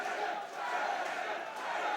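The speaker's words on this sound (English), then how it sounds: "as we hear a crowd of finish him, is that a chant coming from the crowd?" An arena crowd at a fight between Grzegor Jankowski and Gary Kono roars and chants in unison. The dense wash of voices is continuous and moderately loud and stays steady.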